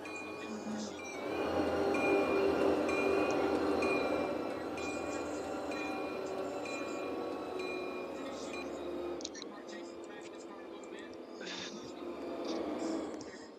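An Amtrak train in a rail simulation game runs out of the Hudson Tunnels into New Jersey, a steady rolling rumble with faint high tonal whines, moderately loud throughout, briefly thinning partway before swelling again.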